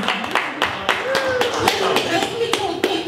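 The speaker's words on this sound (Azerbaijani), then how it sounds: "gəlin bu əməkdaşlığı ürəkdən alqışlayaq" Clapping at a ceremony marking an award and a cooperation partnership. Sparse, distinct handclaps ring out at a loose, uneven rhythm, with a voice speaking over them.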